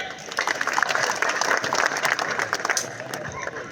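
A seated audience claps during a public speech on Sanatana Dharma, producing a few seconds of uneven, crackling applause with some crowd murmur and voices mixed in.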